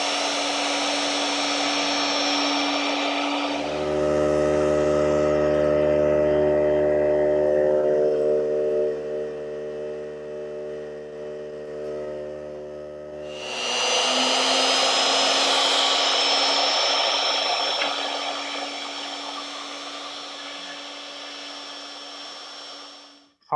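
Woodworking router with a quarter-inch spiral bit cutting a back slat for a Gamble chair, a loud steady whine that drops in pitch to a strained hum mid-cut, then rises back to a free-running scream.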